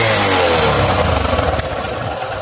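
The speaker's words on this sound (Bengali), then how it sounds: "এই বাইকটি স্টার্ট করে সাউন্ডটা দেখা" A motorcycle engine runs close by, a loud, steady mid-pitched drone with slight revving fluctuations and no voices.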